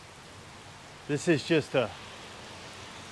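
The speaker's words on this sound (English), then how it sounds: "sunshiny rainstorm that's just gonna pass over" Steady rain shower on the Gulf Coast hisses as a broadband wash throughout, with someone speaking briefly over it midway.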